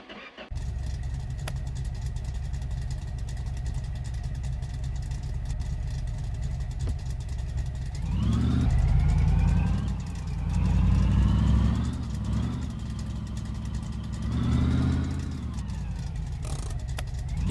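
Truck engine in the driving game My Garage, idling steadily at first, then revving up in several rising surges as it pulls away and drives, loud and close, without talk.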